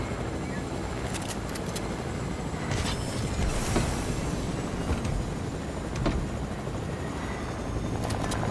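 A helicopter in the video game Fortnite thrums steadily throughout, a dense broadband rotor and engine wash at low level with no clear talk over it.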